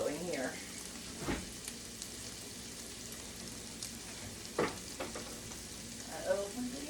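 Eggs fry in butter in a pan, a soft steady sizzle and crackle close by, with a few sharper taps and clinks of cookware scattered through.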